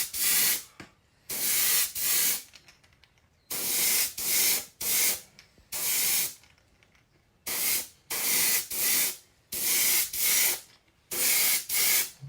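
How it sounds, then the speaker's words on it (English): Red oxide paint for a crackle effect bursts from a spray gun onto a root beer pumpkin seed in about a dozen close, hissing blasts, each lasting roughly half a second to a second, separated by short quiet gaps. "I'm just kind of spraying this kind of light to heavy because I want that red oxide and my detail to show up nicely to this crackle effect."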